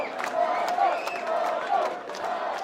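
A wrestling arena crowd chants in a rolling, rhythmic roar at a live Basebrawl event, dense and loud with whoops rising out of the mass of voices.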